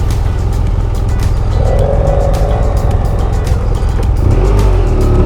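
A car rumbles along on the road from Caracas toward Colonia Tovar, a loud, steady engine drone with the noise of the road underneath and no talk.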